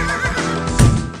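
Horse whinny rising near 0.8 s at a harness-racing trotters' meeting in Subotica, a single loud call over a busy, bright background with faint hoof noise.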